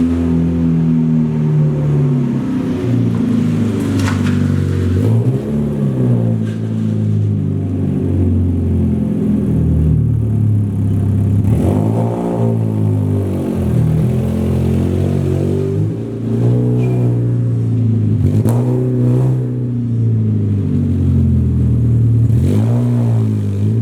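A Mazda Miata fitted with a new exhaust idles with a deep, throaty drone and is revved repeatedly, the pitch rising and falling in several sweeping blips, loud and close, with no voices.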